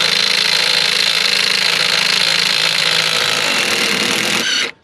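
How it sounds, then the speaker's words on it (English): A cordless drill whirs loudly and steadily for several seconds, backing out the sway bar end link bolt on a Pontiac G8 suspension, then spins down and stops. "my weak ass drill can actually get it off"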